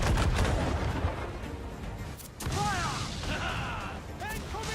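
Naval cannons fire during a sea battle in Assassin's Creed IV: Black Flag, loud booming blasts and dense rumbling combat noise, with shouting voices cutting through the din.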